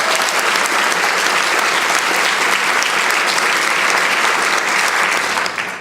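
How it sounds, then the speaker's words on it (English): A large audience at a Girls and Women in Sports Day event applauds the tennis coaches, loud and sustained clapping that stays full and steady before tapering at the very end. "Give them a round of applause."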